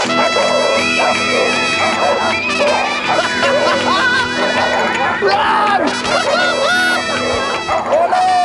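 Pit bulls released to run make a loud, busy chorus of barks, yips and whimpers, close by and constant, with a voice shouting over the commotion and a crowd faintly present.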